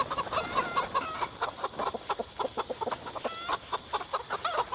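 Chickens on a farm in the game Project Zomboid cluck in a busy, continuous chorus of short overlapping calls, moderately near with no talk.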